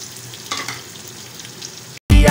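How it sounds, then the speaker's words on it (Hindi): Sliced onion frying until brown for nihari, a steady close sizzle with occasional stirring scrapes, cut short by a sudden burst of loud music at the end. "ये प्याज को मैं करती हूँ ब्राउन"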